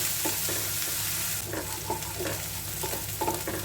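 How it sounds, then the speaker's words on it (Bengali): Spice paste for a shrimp bhuna frying in a pan, a steady close sizzle with repeated scraping stir strokes at a loose rhythm, no voices. "মশলাটা একটু সময় নিয়ে ভাজবো যেন কাঁচা গন্ধটা না থাকে"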